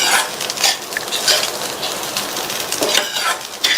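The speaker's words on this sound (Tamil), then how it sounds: "3 to 4 நிமிஷத்துக்கு லோ ஃப்ளேம்ல வச்சு இந்த அவலும் உருளைக்கிழங்கும் நல்லா ஒன்று சேர்ற மாதிரி இந்த மாதிரி மிக்ஸ் பண்ணி கொடுத்துட்டே இருப்போம்" Poha upma with potatoes being stirred in a pan over a low flame: a spoon scrapes and clinks against the metal in steady strokes, with a soft sizzle underneath and no talking.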